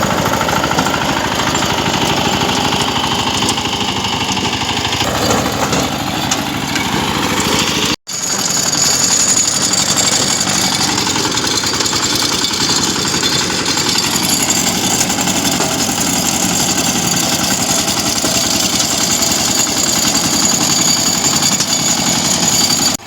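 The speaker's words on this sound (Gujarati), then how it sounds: "આપણું ટ્રેક્ટર રિવર્સમાં કામ આપે છે." A tractor engine runs loud and close on a farm, a steady heavy rattling drone that cuts out for an instant about a third of the way through, then resumes unchanged to the end.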